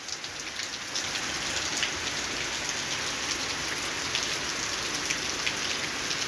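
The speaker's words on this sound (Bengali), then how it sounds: "ঢাকা শহরে কোথাও এক জায়গায় রোদ আছে আর এখানে বৃষ্টি হচ্ছে।" Heavy rain in Dhaka pours steadily, a dense, loud, even roar of rain on surfaces that swells slightly after the first second and continues without any voices.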